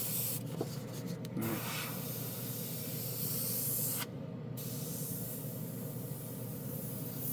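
A Mr. Hobby GSI Creos Custom PS-771 airbrush sprays paint in a steady, close airy hiss that runs the whole time, with a brief break partway through and a few soft rubbing sounds.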